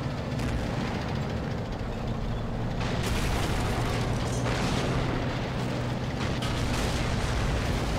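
Artillery shells exploding in the Army Men of War game, a loud continuous rumble of booms and blasts with surges of louder detonations that fill the whole stretch.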